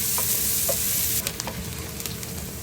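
Chopped onions sizzle in a couple of spoons of hot mustard oil, a dense steady frying hiss with a few clinks of a spoon against the pan, easing slightly partway through.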